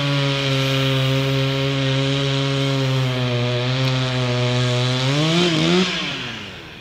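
A chainsaw drones nearby at a steady pitch, loud and sustained for several seconds, then revs briefly and winds down toward the end.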